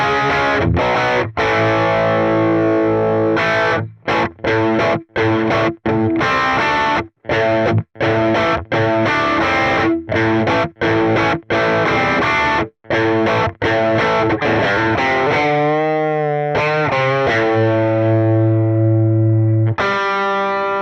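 Distorted blues electric guitar tone from a Quad Cortex with aggressive drive plays alone: choppy chords with sharp stops and gaps, then a sustained, wavering held note ringing out at the end.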